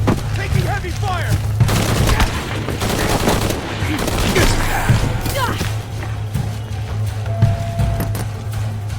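Heavy gunfire in the Shadow of the Tomb Raider video game, with a dense, continuous barrage of rapid loud shots and booming impacts that fills the whole stretch, while shouted voices cut in over the fight.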